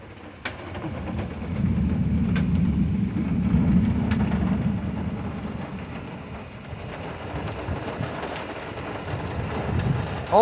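Heavy rain falls on a surface during a storm, with big drops making a dense, continuous patter that rises and eases slightly across the clip.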